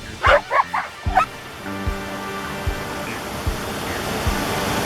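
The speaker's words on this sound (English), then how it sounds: "Good dog, Poe." A hunting dog gives a few sharp barks and yips close by, then falls quiet against a steady background rush like running water, with occasional soft thumps.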